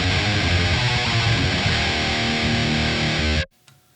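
A heavily distorted electric guitar through an Otto Audio amp simulator plays a dense, driving riff for a few seconds, then stops abruptly, leaving faint residual noise.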